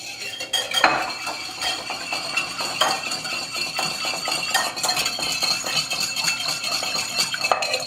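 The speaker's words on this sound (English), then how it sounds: "Whisk it together. You want to make sure that sugar melts in there." A whisk clinks and rattles fast against the sides of a metal bowl as sugar gets stirred into a mixture. The scraping is steady and close, with sharper metallic taps now and then.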